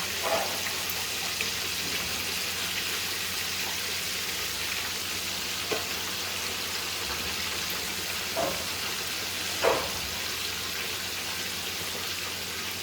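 A big fish sizzles in a hot pan, a constant hiss with a few soft pops and crackles scattered through, close and steady, no voices.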